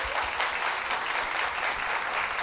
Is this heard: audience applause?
yes